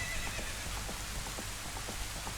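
A horse gallops in The Legend of Zelda: Ocarina of Time, a rapid, even rhythm of hoofbeats over a soft background hiss, fairly quiet and steady throughout.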